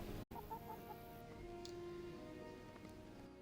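A chicken in the video game Kingdom Come: Deliverance clucks softly a few times early on, under a steady low ambient hum.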